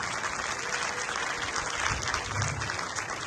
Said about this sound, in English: I request all of you to give a big round of applause for 2024 batch